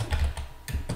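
Typing on a computer keyboard, several quick key clicks in close succession, near and fairly loud, with no talk.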